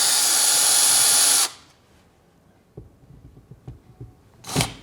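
A power drill backs out the screws holding a switched receptacle, whirring loud and steady for about a second and a half before cutting off, followed by quiet clicks and handling noises.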